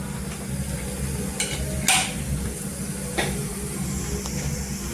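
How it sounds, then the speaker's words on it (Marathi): Cumin seeds crackling in a spoonful of hot oil in a pan while making cabbage chutney, a continuous close sizzle with a few sharp pops and utensil scrapes on top. "त्याच्यामध्ये जिरं टाकायचं जिरं छान असं तरतरलं पाहिजे"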